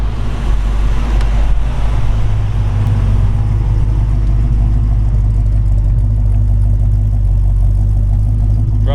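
Steady low rumble of a 1956 Ford F100 pickup's 351 cubic-inch Cleveland V8 idling, a constant deep drone with no revving, heard from nearby outdoors.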